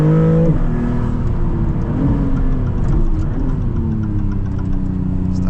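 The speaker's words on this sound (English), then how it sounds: "the engine just provides all the character that you'd expect from a Maserati" Engine of a 2026 Maserati MCPura pulling hard under acceleration, a loud, steady, rising growl heard from inside the car for several seconds without talk.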